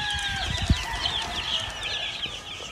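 Chickens on a gamefowl farm with hundreds of birds, clucking and calling steadily at mid distance, one louder cluck near the start, no talk.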